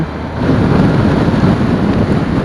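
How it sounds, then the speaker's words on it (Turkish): Strong wind roars and buffets across a microphone, a loud, constant rumble with gusty fluctuations and no speech. "Acayip derece rüzgar esiyor"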